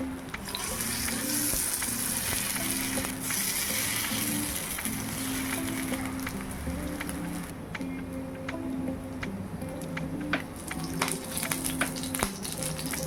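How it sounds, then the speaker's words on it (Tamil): Raw banana slices frying in hot oil in a dosa pan, a dense continuous sizzle and crackle up close, with light scraping and tapping of the slices being placed and moved. "எண்ணெய் நல்லா சூடானதும் நம்ம ரெடி பண்ணி வச்சுக்கிற வாழைக்காயை ஒவ்வொன்றா வந்து சேர்த்துடலாம்."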